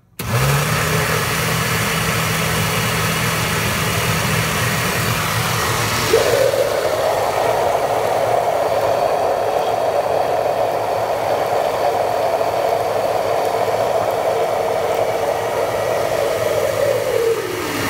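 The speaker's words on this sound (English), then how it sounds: "you know what you need to do to get your blender to sort of incorporate things" A blender churns hummus with a loud, steady motor whir that lowers in pitch then rises and holds as the mixture loosens, running continuously up close with no talking.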